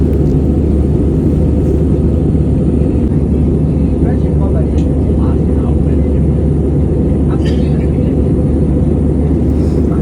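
An airliner flying from Vietnam to Thailand fills the cabin with a loud, steady low roar and broadband drone that holds constant from start to finish.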